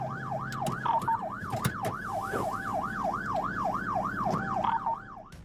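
A police cruiser's wailing siren during a high-speed chase, sweeping up and down in a steady rapid cycle, loud and continuous over road and engine rumble, with a few sharp clicks and knocks.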